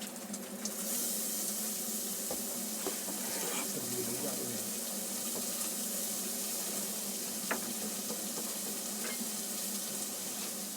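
Guanciale with aromatic vegetables for a sofrito hisses and crackles steadily in a pan, a constant close sizzle with occasional stirring scrapes and light knocks throughout.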